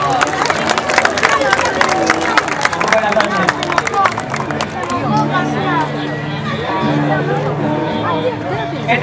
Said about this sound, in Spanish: Y tienen el aplauso de ustedes.